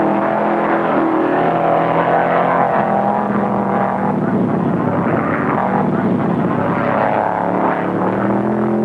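Stock cars, including a Camaro, race around the track at the 1974 Permatex 200, their engines a loud, continuous roar that swells and shifts as the cars pass close by.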